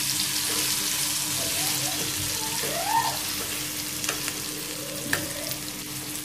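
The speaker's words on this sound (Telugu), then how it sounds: "ఇప్పుడు ముందుగా దంచి పెట్టుకున్న ఉల్లిగడ్డ కారాన్ని మనం ఇందులో వేసేయాలి." Pounded onion and chili paste sizzles as it hits hot oil in a pan for an onion curry, with scraping stirs and a few clinks over a steady frying hiss, close by.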